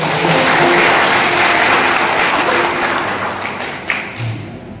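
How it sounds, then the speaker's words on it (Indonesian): A church congregation applauds during a Sunday service, a dense, steady wash of many hands clapping that stays loud throughout and thins slightly toward the end, with no talking over it. "Boleh tepuk tangan yang mulia."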